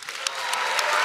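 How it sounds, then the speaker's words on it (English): A live event audience applauds the astronaut Buzz Aldrin with a loud, dense wash of clapping that builds steadily and holds, with a few scattered cheers in the crowd. "I really want you to give another really loud round of applause this time for Buzz Aldrin"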